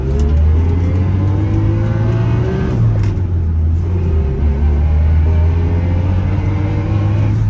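A 1978 BMW 320i E21 drives with a loud, steady mid-pitched engine drone, and the pitch dips as it shifts gears partway through before settling back into a smooth cruise.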